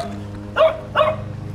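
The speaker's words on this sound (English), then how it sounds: "this dog right here going off. That dog got hot, yo." A dog in a garage gives two sharp, loud barks about half a second apart, close by over a low background hum.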